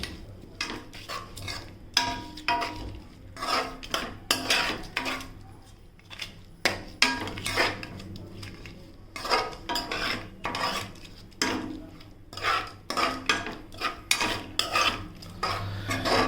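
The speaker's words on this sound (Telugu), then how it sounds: "So let's mix them all together." Prawn dum biryani ingredients are mixed together in a pot, with repeated close scraping and clinking of a utensil against metal over a low steady hum.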